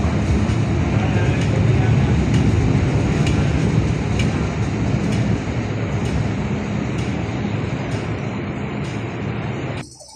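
Train ride through Hong Kong, heading toward Kennedy Town: a steady, loud rumble of the carriage fills the whole stretch, with faint voices in the background, before the noise drops sharply at the very end.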